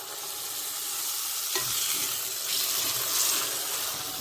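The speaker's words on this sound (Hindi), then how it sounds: "घी को जबरदस्त तरीके से गर्म किया है और अब इसके अंदर वो सीरा और चीनी का घोल मिलाकर के घी के अंदर डाला जा रहा है।" Sugar-and-jaggery syrup poured into very hot ghee gives a steady, loud hiss with a sharp burst of sizzling partway through that swells and stays bright to the end, with no voices.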